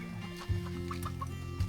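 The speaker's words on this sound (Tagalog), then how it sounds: "May mga manok din lang maliliit, no?" Small chickens cluck softly a few times at close range over a steady low hum of background noise.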